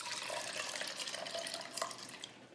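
Black Djon Djon mushroom water strained through to separate the mushroom residue, a steady close liquid pour and splash with faint clinks of kitchenware, no talking.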